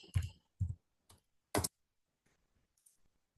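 A few separate key clicks on a computer keyboard, quiet and close, tapped in short irregular bursts with pauses between them and no voices.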